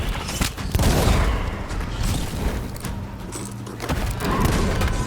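Gunfire in the pirate video game Sea of Thieves, a dense, continuous barrage of shots and booms mixed with thuds and mechanical clatter, loud and sustained throughout.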